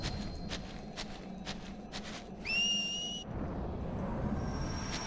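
A whistle in the game Final Fantasy X-2: a clear rising tone held for about a second over soft rhythmic footsteps, followed by a steady low background.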